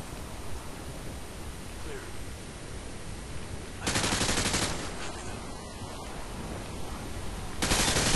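Enemy gunfire in Modern Warfare 2 on the Second Sun mission, a dense, noisy rattle of automatic fire that fills the scene and swells into two louder bursts, with the constant wash of battle behind it.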